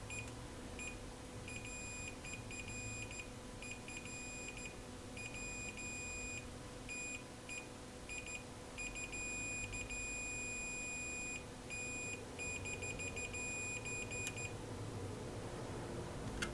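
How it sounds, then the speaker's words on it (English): A multimeter in continuity mode beeps while probing an Xbox One S circuit board, giving high, clear tones that sound in long, broken runs with brief gaps for about fourteen seconds over a low steady hum, with no speech. "If you get a long continuous beep, there's a good chance you've found a short circuit"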